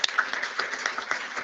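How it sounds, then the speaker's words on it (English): Applause for cadets at a public board meeting, a short burst of scattered, moderately close clapping from a small group in a meeting room. "Can we give these wonderful cadets another round of applause?"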